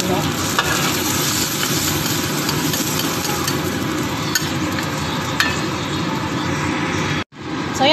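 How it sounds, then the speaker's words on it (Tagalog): Chicken-stock noodle soup broth bubbling at a steady rolling boil in a pot, a dense continuous simmer with occasional clinks, then an abrupt cut near the end. "kumukulo na yung sabaw"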